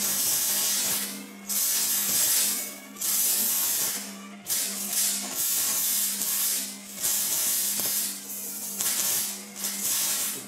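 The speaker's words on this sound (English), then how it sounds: "Let's get to welding." Arc welding on a metal coffee mug, a loud close crackling hiss that comes in repeated bursts of a second or two, with short gaps between passes.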